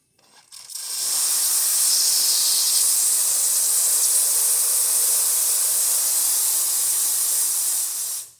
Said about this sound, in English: So let's test the steamer.